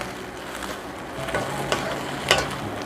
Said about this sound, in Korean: 이거를 고추 먼저 볶아줍니다.